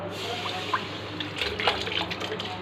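Soaked aloo bukhara (dried plums) and their soaking water pour into a cooking pot, a soft, continuous liquid trickle with light splashes and drips at close range.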